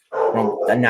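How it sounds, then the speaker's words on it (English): A dog barks twice in quick succession at close range, sharp and fairly loud, in an indoor room during a conversation about vintage baseball cards. "That's my dog."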